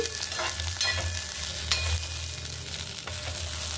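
Green chillies and lentils fry in a pan for an amla roti pachadi, making a steady, hissing sizzle with occasional soft stirring scrapes, close and continuous, no one talking.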